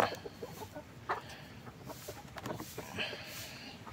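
Chickens cluck in short, irregular bursts while being handled for vaccination outdoors, the calls moderately close and mixed with rustling and some faint speech-like sounds.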